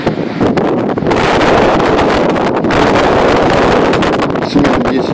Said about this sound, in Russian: опять северный ветер, плюсуют волны